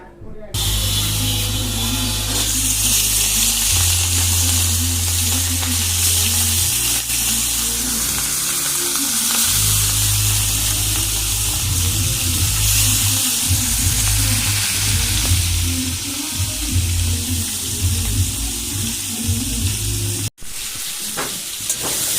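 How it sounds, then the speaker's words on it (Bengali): Potatoes fry in hot oil for a fish dish, a steady loud sizzle and crackle that runs close and unbroken for the whole stretch, with a brief break near the end. "এখানে মাছের জন্য আলু ভেজে নিচ্ছি"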